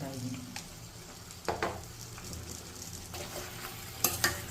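Mangalore-style chicken curry is stirred in a pot after salt and turmeric go in, a soft sizzle with wet scraping strokes and a few louder spoon knocks against the pan.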